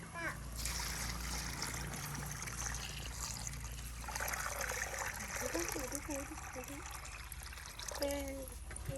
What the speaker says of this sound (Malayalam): ഇതിലേക്ക് വെള്ളം ഒഴിക്കാം